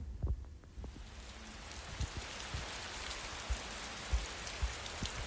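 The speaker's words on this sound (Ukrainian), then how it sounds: "це звук дощика" Steady rain hisses, falling continuously, with occasional soft low thumps of drops hitting a surface.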